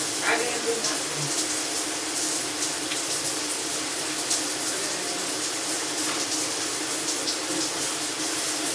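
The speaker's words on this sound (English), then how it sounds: "just let the water run off of you" Shower water runs steadily and loudly close by, a constant broadband hiss of spray with faint speech-like murmurs beneath it.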